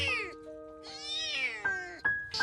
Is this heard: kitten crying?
yes